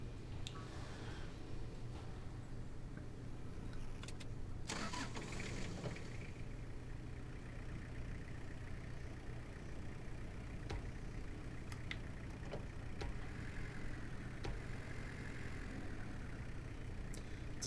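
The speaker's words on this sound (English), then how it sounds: "Sounds like a little diesel engine." A small diesel truck engine in the Snowrunner video game runs at a low, steady idle throughout, with a brief burst of noise early on and faint clicks scattered over the rumble.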